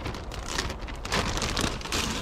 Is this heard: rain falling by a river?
yes